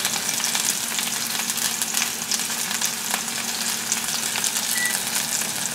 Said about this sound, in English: once this stops frying a little bit, because I do want to saute it, I'm going to turn it up